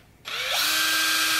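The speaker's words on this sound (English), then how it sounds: "using the drill, I over-tightened the screws just a little bit." A power drill whirs up and runs steadily, over-tightening screws on the inner gimbal of a small thrust vectoring mount, loud and close with no talk.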